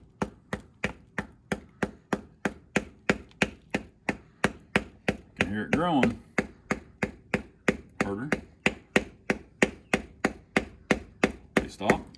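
A child taps a screwdriver with a rubber mallet to crack a Keokuk geode, steady sharp knocks roughly every third of a second, close and clear, with brief talking over the strikes.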